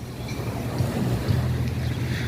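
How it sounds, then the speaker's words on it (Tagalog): Steady seaside wind rushes and buffets the microphone, with a low rumble of sea beneath it, continuous and fairly loud throughout. "Sarap ng hangin dito sa dagat"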